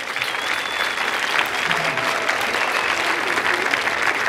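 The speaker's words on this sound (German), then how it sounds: "Bitte einen Applaus für seinen Vortrag." A crowd at a science slam in Karlsruhe claps continuously for a speaker, a thick, even wash of applause with no voices over it.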